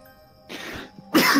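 A person sneezes once, a loud sharp burst near the end that follows a softer breathy intake, close to the microphone.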